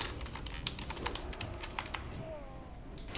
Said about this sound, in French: je suis en train de matraquer mon clavier